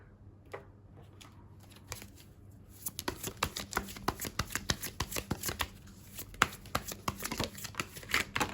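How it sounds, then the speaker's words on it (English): Tarot cards are pulled from a deck and shuffled by hand, starting with a few soft slides and taps, then a dense run of quick riffling flicks and snaps up close. "Let me just grab a few more cards from a different deck."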